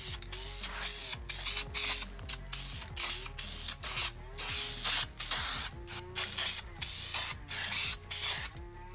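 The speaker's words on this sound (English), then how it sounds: "So now is also a good time to throw some self-etching primer on that." Self-etching primer sprayed from a can onto bare, welded car floor metal, heard as a series of close, loud hissing bursts broken by short gaps and light mechanical clicks.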